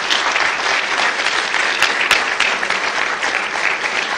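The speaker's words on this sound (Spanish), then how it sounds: "Un aplauso para todos ustedes." An audience claps at a Peruvian endoscopic surgery society's 25th anniversary celebration, producing dense, steady applause that carries evenly through the whole stretch with no talk over it.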